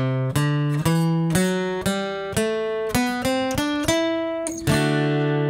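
An acoustic guitar plays a walk-up figure, a steady sequence of about a dozen plucked notes and chords, each ringing briefly before the next, close and clear with no talking.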